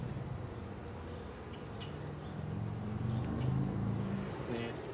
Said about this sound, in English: See, there's bees coming in.